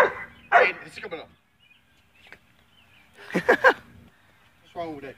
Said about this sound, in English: What's wrong with that dog?